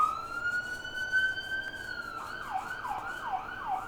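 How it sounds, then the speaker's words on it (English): An emergency vehicle siren wails outside, a steady high tone shifting into rapid rising-falling yelps, moderately loud over a constant background hum with no talking. "It's always sirens here."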